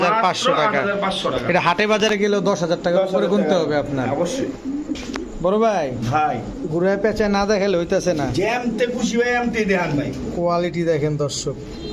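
Pigeons coo in low, rolling bursts, close and loud, mixed with people talking nearby at a pigeon sale.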